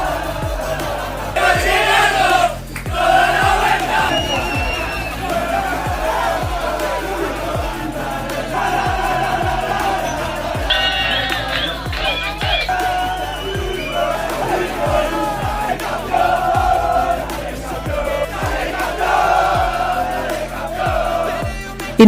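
Inter Miami's football squad cheers and shouts in the locker room while celebrating their first MLS Cup title, a loud, continuous crowd of whoops and yells with music thumping underneath.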